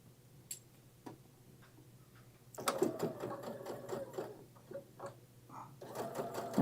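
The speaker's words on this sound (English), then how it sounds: "I'm going to lower the foot, and then we'll just start to sew" A home sewing machine stitches and gathers fabric in two short runs of rapid, even mechanical ticking, with a few scattered clicks and a quiet pause between them.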